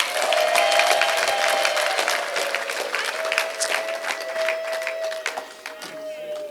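A church congregation applauds during a service, a dense burst of clapping that slowly thins and fades, with a sustained held musical tone running beneath it.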